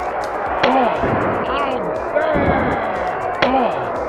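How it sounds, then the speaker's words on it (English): In the 1994 Super Nintendo wrestling game WCW SuperBrawl, a roaring arena crowd fills the background while sharp thuds and impact sounds land every second or so, with a voice shouting over it. "only horrible crowd noises and wrestler sound effects"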